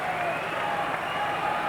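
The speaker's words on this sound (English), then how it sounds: "That's why the crowd is roaring." An arena crowd at a 1980 Winter Olympics ice hockey game between Canada and Finland roars and applauds in a dense, continuous wash of noise, with a commentator's voice faintly audible over it.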